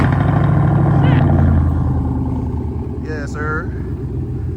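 A Pontiac G8 GT cold-starts on a salty Ohio winter day, its engine rumbling loud and close at a high idle, then easing to a lower, steadier idle, while someone speaks briefly over it.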